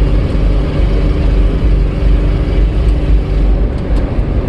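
LS-swapped Datsun car engine running at close range, a loud steady low rumble with a heavy, even drone and no talking over it.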